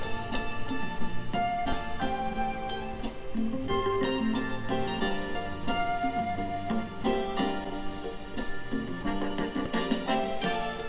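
A warm, layered sampled soul music intro with steady rhythmic hits and sustained chords, playing continuously with no voices.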